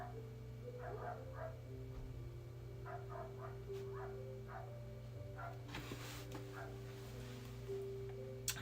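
Dogs bark and yip in short bursts some distance away, repeating through the stretch over a steady low hum and continuous background noise, with no talking.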